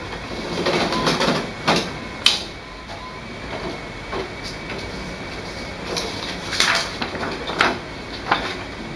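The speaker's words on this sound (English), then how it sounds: "After loading the paper, the printer will be calibrated." An HP OfficeJet Pro 7720 printer calibrating after paper is loaded, with repeated mechanical whirs, clunks and sliding sweeps over a steady motor hum, close and moderately loud.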